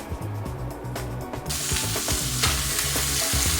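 Lobster meat frying in unsalted butter with Tuscan herb, sizzling and hissing continuously and close by, with the crackle growing louder partway through.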